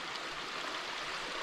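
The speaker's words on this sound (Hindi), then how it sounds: "ये देखिए कितनी छोटी छोटी जगह से पानी आ रहा है" A small trickle of snowmelt water runs on a snowy hillside, giving a steady, close, hissing wash with no pauses or voices.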